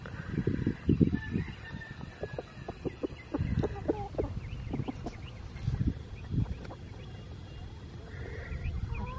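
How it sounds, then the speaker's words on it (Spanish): A farm rooster crows several times close by among clucking chickens, with other farmyard fowl sounds around it and no talk. "El gallo es bien bravo hoy."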